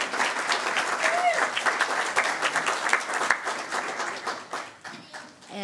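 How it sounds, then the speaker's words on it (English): Audience at an education awards ceremony gives a round of applause for award winners, steady clapping from a sizable crowd that tapers off at the end, with some voices mixed in. "please give a round of applause to Katie, Andrea, Josh, Miles, and Melissa"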